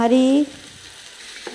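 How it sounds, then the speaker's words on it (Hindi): Green chillies and onions fry in a pan, giving a soft, low sizzle with a faint stir near the end, heard after a brief spoken word at the start. "हरी मिर्च डाल लेंगे और हम अच्छे से हिलाएंगे उसे।"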